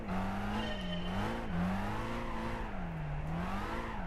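A Jaguar XKR drifting in Gran Turismo 5, its engine note steadily rising and falling as the revs swing through the slide, with a continuous tire-squeal hiss under it and no talk.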